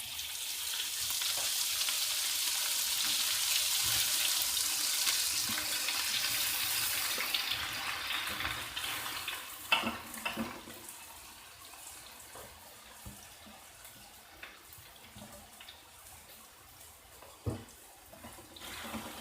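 Balinese base genep spice paste fries in a pan with a loud, hissing sizzle that eases after several seconds into quieter crackling, broken by occasional clacks of stirring.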